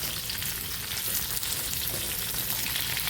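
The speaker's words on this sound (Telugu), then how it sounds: "కాకరకాయ ముక్కలు బాగా ఆయిల్లో ఫ్రై అవ్వాలి." Bitter gourd pieces fry in oil over a medium flame, giving a steady, close hiss and crackle that stays even throughout with no voices.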